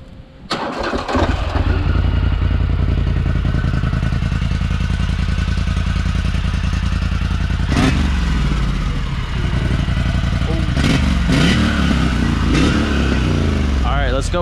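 A Polaris Scrambler 1000 ATV engine cranks over at the start, then settles into a loud, steady idle close to the microphone, with a few brief revs or knocks partway through.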